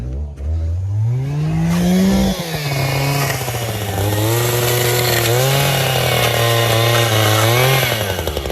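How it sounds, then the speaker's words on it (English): A chainsaw runs loudly and close throughout, its engine pitch rising and falling as the throttle revs. "Is chainsaw scary?"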